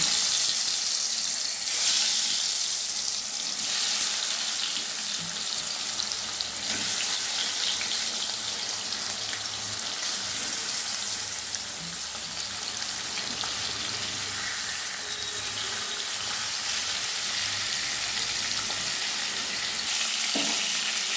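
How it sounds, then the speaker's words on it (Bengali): Hilsa fish pieces frying in hot oil, a steady broad sizzle running unbroken and fairly close throughout, with occasional soft crackles and no talking. "ইলিশ মাছ খুব কড়া করে ভাজবো না"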